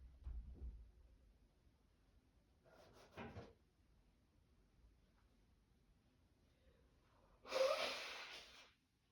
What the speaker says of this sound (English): Gotta blow my nose, of course I do.